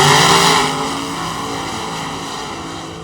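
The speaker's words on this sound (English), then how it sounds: "89 Mustang." A 1989 Ford Mustang drag car at a drag racing event, loud harsh engine roar with a strong opening burst that eases off as it passes.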